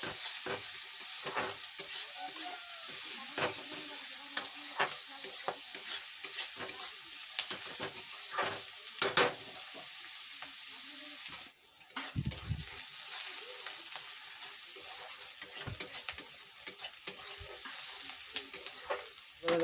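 Onions frying for a mutton curry in a pan, a continuous sizzle with frequent clattering, scraping stirs throughout, close and fairly quiet, with no talking.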